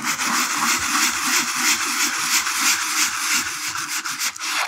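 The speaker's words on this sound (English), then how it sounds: "sometimes I'll even sand on top of wet paint" Continuous close, loud rasping of 100 grit sandpaper rubbed back and forth over a painting's surface, a rough scratchy texture with a pulsing stroke rhythm and no talking.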